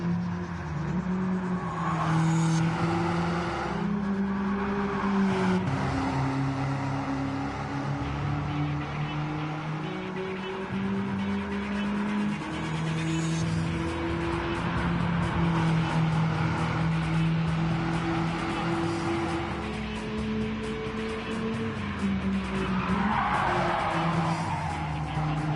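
A 2010 Volkswagen Scirocco R in a racing video game, its engine droning and shifting pitch continuously with repeated tire squeals and skids, loud and close throughout with no talk.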